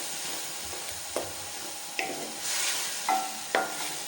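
Chopped tomatoes cooking in a pan for spicy aloo katliyan, a steady sizzle and hiss with a few sharp stirring scrapes and clinks, close and alone without talk.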